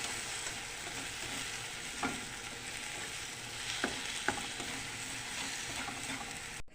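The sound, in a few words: egg frying with bitter gourd (ampalaya)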